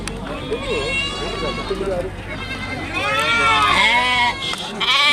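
Sheep and goats at the Kanigiri livestock market bleating repeatedly, several overlapping wavering calls near and loud against crowd babble, with voices talking throughout.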